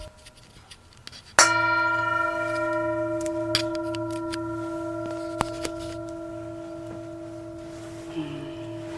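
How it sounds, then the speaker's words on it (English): A meditation bell struck once before a guided meditation at a Buddhist-Christian Easter Sunday service, ringing out clearly with a long, steady sustained tone that slowly fades over several seconds, with a few faint clicks in the quiet room. "Can I ring the bell first?"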